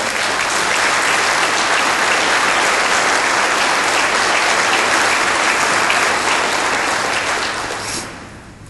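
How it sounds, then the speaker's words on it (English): An audience at a Texas Bankers Association gathering applauds the association's staff: a sustained, dense wash of clapping from a large crowd, steady and loud throughout before tapering off at the end. "I would like for you to give them a big round of applause."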